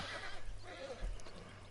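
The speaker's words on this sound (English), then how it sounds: "No, but this horse is gonna hurt me." A horse in the open-world western game Red Dead Redemption 2 gives a quiet whinny amid soft ambient game sound, with a dull thump partway through and no clear talk over it.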